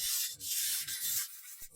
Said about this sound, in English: First, he sands it by hand,